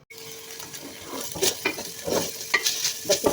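Chicken sizzling and frying in a pan for macaroni, with a utensil stirring and scraping through it in irregular bursts, close and steady with no talking.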